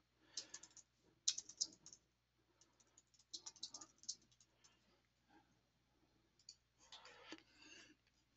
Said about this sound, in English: So let me just type that in.